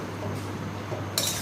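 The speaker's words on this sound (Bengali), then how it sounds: "আমি আর একটু করব, ঢাকনা দিয়ে রাখবো।" A lid lands on a cooking pot of potatoes with a sharp metallic clink near the end, after a stretch of quiet kitchen clatter and low background hum.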